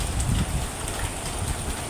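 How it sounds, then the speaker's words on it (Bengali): A brief stretch of steady rain, an even close hiss with soft low thuds underneath, no voices heard. "আবার বৃষ্টি এসছে"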